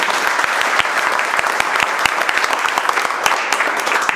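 A class of mobile-repair training students bursts into loud, sustained applause, dense sharp claps from many hands in a room, with no speech.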